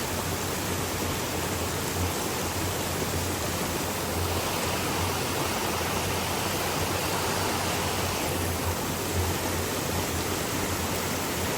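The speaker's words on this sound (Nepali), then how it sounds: "खोलाको छ्याङ आवाजमा" A village stream splashes and rushes steadily nearby, a dense, even broadband roar of flowing water that fills the whole span without pauses or voices.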